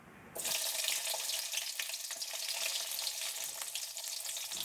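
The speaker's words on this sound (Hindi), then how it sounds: "एक कढ़ाई में 2 से 3 बड़े चम्मच तेल को गरम करके उसमें 2 से 3 हरी मिर्च डाल दीजिए।" Two or three green chillies dropped into hot oil in a kadai while preparing a Goan prawn kishmur, setting off a sudden, steady crackling sizzle that holds evenly to the end, with no talking.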